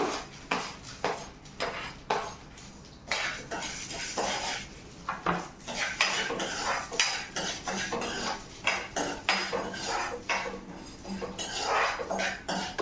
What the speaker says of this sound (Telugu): దోరగా వేయించాలండి పచ్చెనగపప్పు.